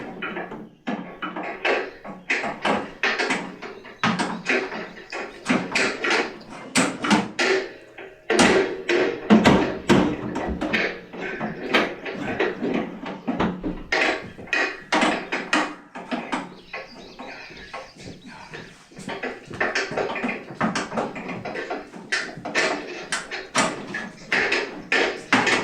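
Repeated metallic knocks, scrapes and taps from a hammer prying out parts of a Troy-Bilt Pony riding mower during a drive belt replacement, irregular clatters and prying noises continuing throughout.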